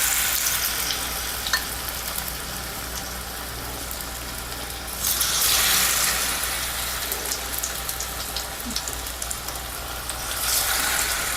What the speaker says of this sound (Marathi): आपल्याला शॅलो फ्राय करून घ्यायचे आहेत तुम्ही शॅलो फ्राय करा डीप फ्राय करा